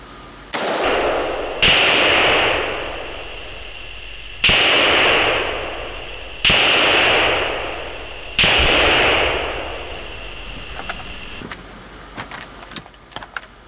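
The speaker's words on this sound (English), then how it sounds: "So, for that, got an AR-15." AR-15 rifle fired in single shots, four sharp loud reports spaced a couple of seconds apart, each with a long fading echo outdoors, followed by faint metallic clicks.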